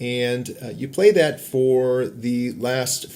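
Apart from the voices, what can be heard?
No distinct noise like a dog, phone or traffic.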